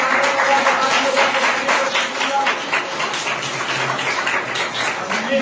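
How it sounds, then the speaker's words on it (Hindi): A church congregation claps in praise of God, a sustained, dense patter of many hands applauding together at steady volume for several seconds. "ताली बजा के परमेश्वर का"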